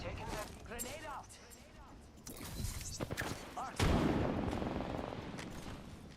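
Gunfire in the Apex Legends video game, bursts of shots crackling through a busy firefight, growing louder and denser toward the end, mixed with talk.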